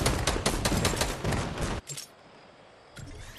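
Rapid automatic gunfire in Fortnite, a dense burst of about a dozen quick shots lasting under two seconds, then near-silence broken by a single faint report, loud and close with no talk.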